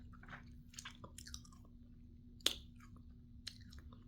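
Pop Daddy pretzel snacks being chewed, with quiet, scattered crunches and one sharper bite standing out, close to the mic and with no talking.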